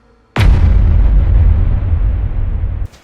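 A gun fired through an extremely long 25-yard suppressor sets off one loud, close blast that swells into a sustained, roaring boom lasting over two seconds before cutting off abruptly.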